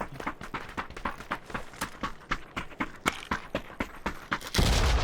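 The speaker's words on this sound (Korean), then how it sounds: "뒤에 발소리" Rapid, evenly spaced footsteps from a video game, a steady run of sharp close thuds about five per second, ending in a brief burst of louder noise.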